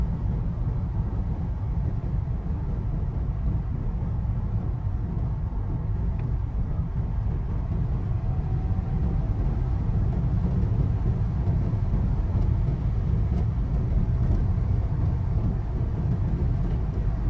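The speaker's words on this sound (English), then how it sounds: "driving an unrestricted road for 2 hours now" A 2022 Porsche Taycan Turbo S cruises fast on an unrestricted road, heard from the cabin as a steady, deep roar of road and wind noise that holds level throughout, with no talking.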